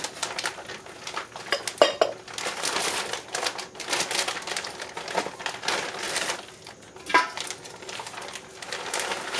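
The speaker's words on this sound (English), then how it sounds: "We'll take as many of these legs and put them into our kettle." Raw chicken legs are handled and dropped into a metal canning kettle, giving continuous clanking, scraping and crinkling sounds at close range with occasional louder knocks and no talking.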